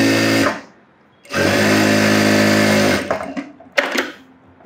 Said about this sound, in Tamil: ஓரத்தில் ஒரு தையல் எட்ஜ் தையல் போட்டுக்கிறேன்.